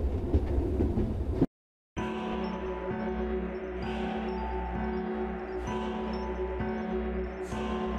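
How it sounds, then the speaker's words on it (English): A metro train in a video game with surreal PS1-style graphics rolls steadily and slows to a stop, giving a continuous rumble with periodic hissing bursts after a brief silent gap. "It feels like the longest metro ride I've ever been on. Metro comes to a stop."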